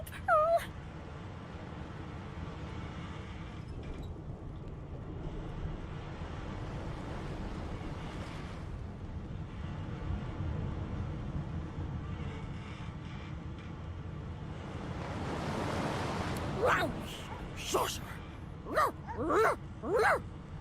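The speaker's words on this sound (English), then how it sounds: "The dog whines and continues pawing at its nose." A dog in Divinity: Original Sin 2 whines and whimpers softly over a steady low game ambience, with a few sharper, higher yelps clustered near the end.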